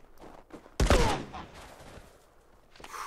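A sudden loud burst of gunfire in The Last of Us Part II, a dense crack followed by decaying echoes and scattered smaller impacts, with faint game ambience before and after.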